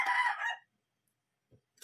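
A rooster crows once, nearby and fairly loud, ending within about half a second and followed by near silence with a faint soft knock.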